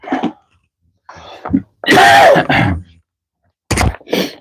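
A person coughs several times in separate bursts with short pauses between them, close and loud, one harsh, drawn-out cough in the middle.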